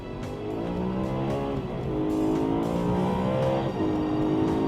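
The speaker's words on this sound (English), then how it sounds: "Wheel spinning in second." A BMW M3 engine revs hard and accelerates with wheelspin, its pitch climbing and dropping through gear changes, loud and close with a rough, spinning edge.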